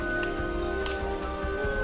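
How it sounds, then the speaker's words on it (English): Light morning rain falls steadily on foliage in a misty highland jungle in Sarawak, Borneo, a close, continuous patter of drops with no voices over it. "which upon our arrival is still misty and refreshed by the light morning rain"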